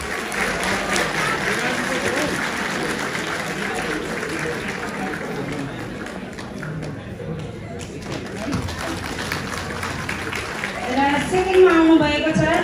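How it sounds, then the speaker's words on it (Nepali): A crowd at a Magar community Makar Sankranti program claps in a sustained round of applause, which swells louder near the end, while an announcer speaks over it. "ताली बजाइदिनु होला"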